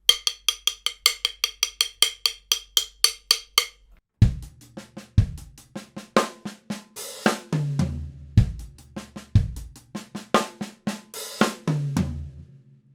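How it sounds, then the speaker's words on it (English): A full drum kit plays an Ash Soan-style quintuplet groove with no metronome, after a quick run of hi-hat or stick clicks counting in. Kick, snare and hi-hat follow in a steady repeating pattern, alone and close, with no talking. "So the whole thing, together, no metronome, sounds like this."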